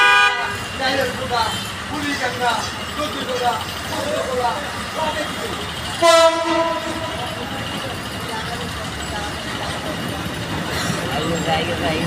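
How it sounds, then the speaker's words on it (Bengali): A train passes Malibag railway station in Dhaka amid busy street traffic, with a loud horn blast near six seconds over constant crowd and vehicle noise and people talking throughout. "এই যে ট্রেন আই পড়ছে, ট্রেন এখন দেখা যাবে ট্রেন।"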